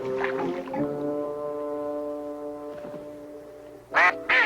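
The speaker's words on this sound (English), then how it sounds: "These adult mallards, without young, have less to fear since they can fly away." Adult mallard ducks on a marsh give drawn-out nasal quacks, one long honking call trailing off before two sharp, louder quacks close by at the end.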